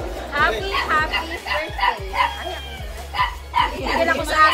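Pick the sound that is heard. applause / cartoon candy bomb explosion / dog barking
dog barking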